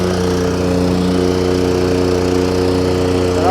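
A commercial 25-inch Ybravo lawn mower engine runs in first gear at a steady, constant, loud drone close by, with no change in pitch throughout.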